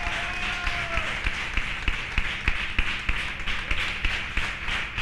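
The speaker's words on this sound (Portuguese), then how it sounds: "agora palmas para Jesus" A church congregation applauds Jesus during a service, steady rhythmic clapping from a crowd filling the room throughout.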